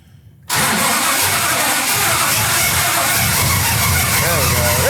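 A Dodge Daytona car engine catches after a quiet moment and roars into a loud, steady run close by, with people talking over it.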